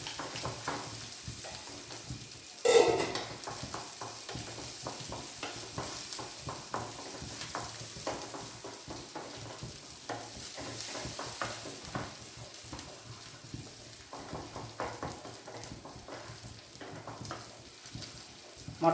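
Onions and sunflower seeds fry in a pan with a soft, steady sizzle, broken by a few clinks and stirring sounds, and no voices.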